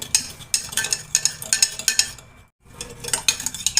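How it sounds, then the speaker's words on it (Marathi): A spoon stirring coffee, sugar and milk in a cup, giving rapid close metallic clinks and scraping in a steady rhythm, with a short break midway before the stirring resumes, loud and without talk. "या ठिकाणी चमच्याने छान एकजीव करून घ्यायचं साखर आणि ही कॉफी"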